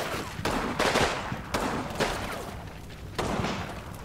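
Gunfire in a video game training campaign: repeated bursts of shots and sharp reports at roughly 0.5, 0.8, 1.5, 2.0 and 3.2 seconds, with rattling fire continuing between them, loud and close.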